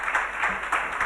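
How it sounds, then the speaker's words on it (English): An audience claps at a live-streamed panel event, giving a short, even burst of applause that holds steady from start to finish. "A hand of applause to Mr."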